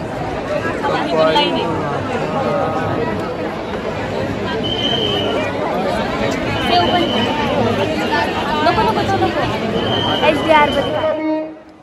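A dense crowd packs a road near Dagdusheth Ganpati temple in Pune, a loud continuous babble of many voices close around, with nearby people talking over it throughout.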